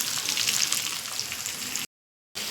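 Food fries in a pan with salt and turmeric added, a steady sizzle with soft stirring scrapes that cuts off abruptly near the end and then resumes.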